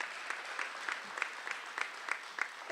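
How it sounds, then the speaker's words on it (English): Steady applause from a school assembly crowd honoring senior athletes, a dense patter of many hands clapping at even volume with scattered sharper claps, no voices over it. "Please help me in joining with a nice round of applause for these seniors participating in athletics"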